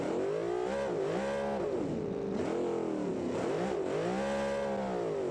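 A vintage car engine revs loudly and continuously in a racing video game, rising and falling in pitch through repeated acceleration and shifts, with no talking.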